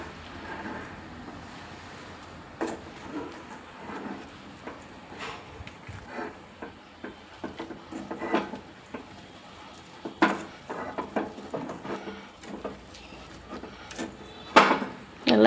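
Ragi mudde stirred and pressed in a pan with a wooden stick, heard as scattered thuds and soft scraping knocks at an irregular pace, close and fairly quiet, without talking.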